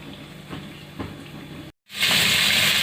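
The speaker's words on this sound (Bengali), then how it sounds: "কড়ার মধ্যে তো পটলটা ভাজতেই দিয়েছি" Pointed gourd (potol) frying in oil in a wok: a steady low sizzle with soft crackles, then after a brief silence a much louder, brighter hiss fills the rest.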